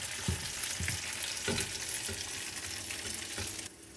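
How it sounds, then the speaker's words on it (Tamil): Coriander seeds and cumin frying with green chillies in a pan, a dense steady sizzle with soft scraping stir strokes, dropping quieter near the end. "ஸோ தனியாவும் சீரகமும் ஆட் பண்ணி ஒரு 2 மினிட்ஸ் ஃப்ரை பண்ணலாம் இப்போது"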